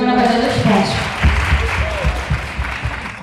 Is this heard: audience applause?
yes